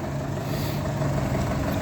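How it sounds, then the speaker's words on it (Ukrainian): A Solis 105 tractor engine with Mitsubishi-licensed diesel runs steadily, a continuous droning hum with a low idle-like rumble, close and even throughout the short stretch. "Тракторець їде в Новомиргородський район."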